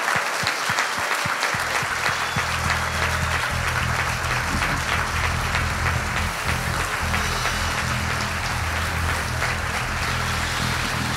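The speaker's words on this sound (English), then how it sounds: "Now I want us to put our hands together and clap for Jesus." A church congregation claps for Jesus at a music and ministry celebration, sustained dense applause from a large crowd, with a low musical tone droning underneath after a few opening thumps.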